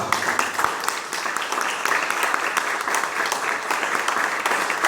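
A Pentecostal church congregation in Brazil breaks into warm applause during a sermon, many hands clapping steadily and close, with a faint voice murmuring beneath.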